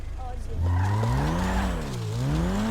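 A car in a roleplay video game revs and skids, its engine pitch sweeping up and down while the tires squeal, with players talking over it.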